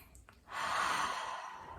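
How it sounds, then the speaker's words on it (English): A single slow, deep inhalation drawn in through the nose, soft and close, swelling then easing off during a guided relaxation. "take a deep breath."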